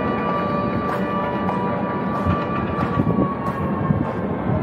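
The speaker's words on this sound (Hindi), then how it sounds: "पता नहीं किस चीज़ का एक सायरन बज रहा है।" A steady siren drones in the distance at Kochi port, its sustained tones sitting over a low rumbling background noise.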